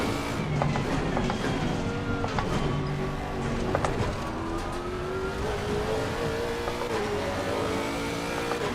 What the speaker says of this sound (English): It sounds quite nice, this car.